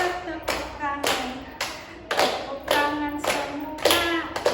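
A counseling group practice session where people clap their hands in a steady rhythm, about eight distinct claps a little over half a second apart, close and clear, with a little vocal sound between them.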